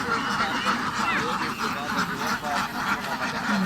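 Domestic ducks quack repeatedly on farmland where buffalo graze nearby, a busy, continuous stream of calls with background voices and outdoor noise mixed in.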